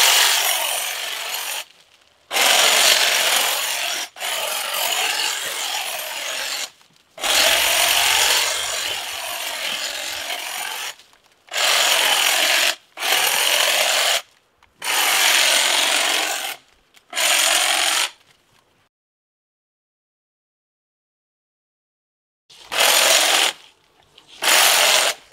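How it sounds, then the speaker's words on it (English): Shears or a trimmer cut through the branches of a Thuja occidentalis 'Brabant' bush in repeated loud, close bursts of rasping a second or two long, separated by short gaps and one longer silence. "Let me get on with trimming."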